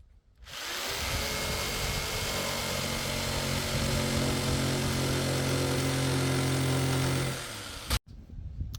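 Jigsaw cutting an 11-inch circle in wood for a 2x12 bass speaker cabinet, a loud continuous buzzing motor with rapid reciprocating rasp for about seven seconds, then a sudden stop.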